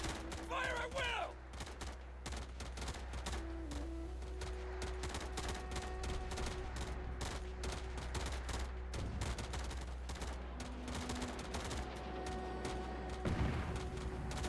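Rifle squads trade gunfire in the video game War Alert, a continuous crackle of rapid shots and bursts at low volume, with a few tonal game effects over it.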